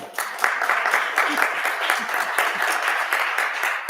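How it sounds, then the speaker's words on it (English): An audience at a school board meeting claps steadily for an honored educator, a full, even wash of many hands with a slight rhythmic pulse, close and fairly loud, with faint voices mixed in. "You're clapping."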